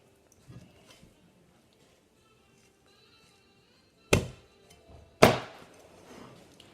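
Two sharp, loud chops of a knife through a chicken wing joint on a cutting board, splitting it into two pieces; the pair of impacts about a second apart, each with a short ringing decay, with faint handling sounds before.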